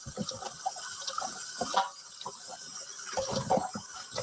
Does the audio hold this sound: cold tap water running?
yes